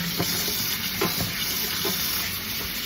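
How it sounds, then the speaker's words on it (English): Tap water runs steadily over sea moss being rinsed in a sink, a continuous close hiss with faint splashes and small knocks, no voices. "I'm just going to rinse and rinse, and I'm just going to let the water run on it for a minute"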